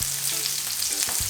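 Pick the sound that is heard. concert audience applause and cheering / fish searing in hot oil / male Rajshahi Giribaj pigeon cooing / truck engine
fish searing in hot oil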